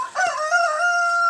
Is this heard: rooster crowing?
yes